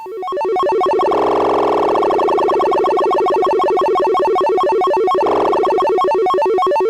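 A GMSN modular synth sequence runs at high speed, firing rapid, buzzy electronic blips that sweep across a wide pitch range like retro sci-fi or arcade game effects, dense and loud throughout with no talking.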